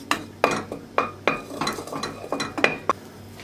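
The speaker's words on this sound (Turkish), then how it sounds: "Eti sadece bir iki şöyle çevirip kavuracağım" Pieces of meat are turned in butter in a pot, a utensil scraping and knocking against the metal in a dozen sharp, irregular strokes with a faint sizzle beneath.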